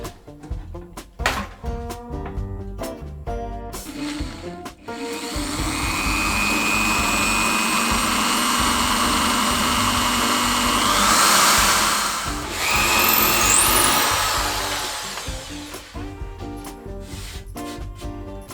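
A power drill with a somewhat blunt bit bores through a wooden drawer, giving a long steady whirring grind that strains and wavers, preceded by brief knocks and handling noises.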